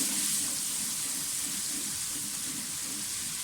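Onions fry with garlic ginger paste in a pan, giving a soft continuous sizzle and hiss close by, with no voices.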